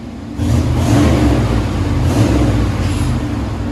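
Exhaust of a Chevy/GMC 5.7L V8 truck with a large catalytic converter, revving loud and close with a deep steady rumble that swells after a brief quiet start and holds strong throughout.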